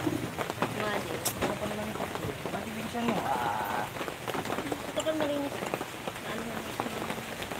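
Steady rain falls during a typhoon, a constant hiss of drops on surfaces throughout, with people talking over it nearby.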